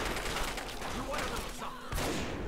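Gunfire in Fallout 3 strikes a desk, several sharp shots and impacts in quick succession with a brief rising whine, loud and close, with a voice speaking in the game.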